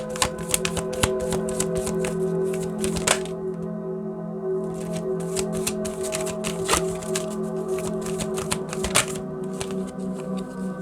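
Oracle cards are shuffled by hand in a quick, crisp, riffling patter of dense ticks and flicks that runs close and steady for about eleven seconds, with a faint background hum beneath.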